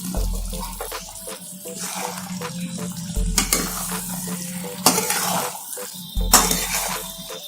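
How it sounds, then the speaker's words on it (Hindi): Whole onions cook in oil in a pan on a gas stove at low to medium flame, giving a soft, steady sizzle with scraping and stirring knocks, all fairly quiet and with no one speaking. "हमें प्याज को तेल में ही पकाना है, इसमें पानी ऐड नहीं करना है।"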